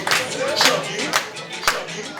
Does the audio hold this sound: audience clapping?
yes